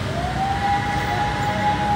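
A steady siren wail rises and holds over a loud rumble of traffic, sounding fairly close and continuous throughout.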